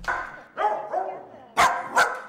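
A Pembroke Welsh Corgi barks four times in quick succession, close and loud. The barks are uneven yips with short gaps between them.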